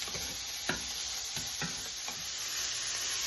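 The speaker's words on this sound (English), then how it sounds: "You can hear it sizzle." Garden vegetables for ratatouille sizzle in a skillet as a soft continuous hiss, punctuated by a few sharp pops and clicks, close by and without any voices.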